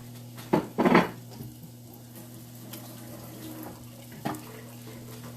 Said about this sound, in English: because I handled turkey, I'm going to go wash my hands.